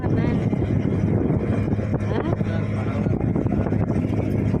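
A boat's engine drones steadily on open water, a loud, continuous rumble close by, mixed with heavy wind buffeting on the microphone throughout.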